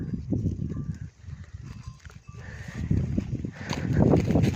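Sheep and lambs are let out together to graze by a wheat field, making a busy shuffle of hooves and movement with scattered faint bleats, close by.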